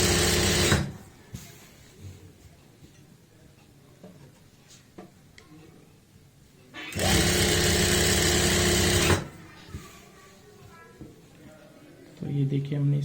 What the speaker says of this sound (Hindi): यहाँ पे ऐसे रखेंगे और स्टिच करेंगे